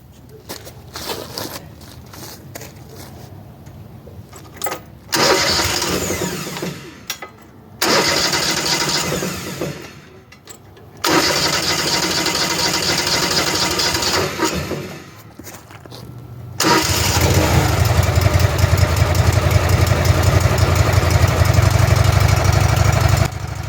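A sawmill's engine cranks in several loud bursts with short pauses between them, then fires and settles into a steady, close, roaring run after being given choke.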